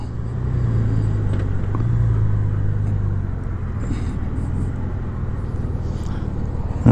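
A car rolls into the Southern Honda Powersports dealership lot, its engine a steady low rumble close by, with tyre and road noise easing slightly as it slows.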